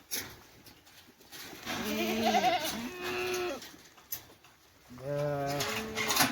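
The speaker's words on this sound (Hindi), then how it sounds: "ये है बकरी, हमारा भेड़ और बकरी दोनों ही" Mixed goats and sheep bleat in a flock, several loud wavering calls close by, one after another with short gaps, over faint background noise.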